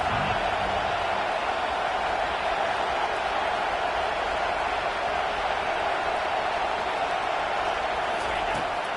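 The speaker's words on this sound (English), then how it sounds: "This crowd busting the decibel meter and trying to will a fourth down stop." Stadium crowd roaring in a college football video game during a fourth-down play, a dense continuous wall of loud cheering and noise with a commentator talking over it.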